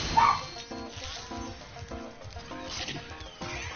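Pet dogs barking and yipping indoors behind the sound of a Spyro Reignited Trilogy game, a few short barks mixed with whimpers over steady game music.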